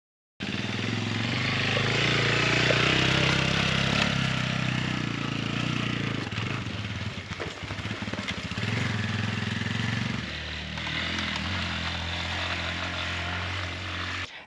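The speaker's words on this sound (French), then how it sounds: "s'en va avec la moto de si bonne heure pour aller à Quito" A motorcycle sets off early in the morning in Ecuador, heading toward Quito, its engine droning loud and steady throughout with a shifting rev partway, heard alone without talk.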